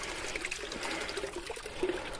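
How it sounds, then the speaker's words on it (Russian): Spring water trickles straight out of a mountainside on a hiking trail up Mount Ai-Georgiy near Sudak, Crimea, a soft, continuous, gentle babble heard close by. "Вода идет прямо из горы."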